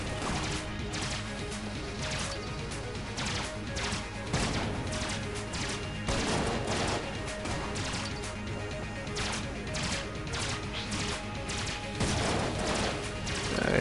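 A weapon in the bullet-hell game Enter the Gungeon fires in repeated bursts: dense clusters of sharp shots and impacts run throughout, with small gaps between volleys over constant game noise.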